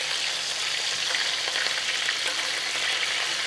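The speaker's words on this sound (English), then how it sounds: "now we'll just use our garlic and thyme butter to start basting our fish" Monkfish sizzles steadily in a hot pan while being basted with garlic and thyme butter, a loud continuous crackling fry close up with faint spoon movements and no talking.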